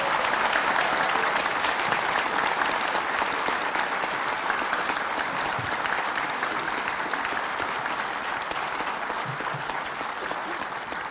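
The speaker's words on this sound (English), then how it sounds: "Can we give all our graduates one big round of applause?" A large crowd claps steadily for graduates at a college graduation ceremony, loud, dense applause that runs throughout and eases slightly toward the end.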